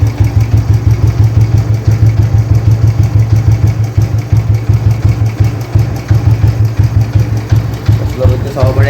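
A 1988 Bullet motorcycle engine idles with the choke off, its loud, steady slow-beat thump repeating evenly and close by for the whole stretch.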